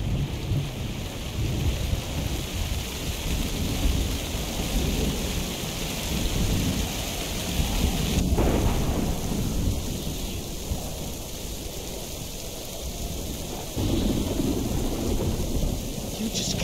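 Steady heavy rain with rumbling thunder in the video game Minecraft Story Mode, a dense continuous downpour with rolling booms, loud and close throughout.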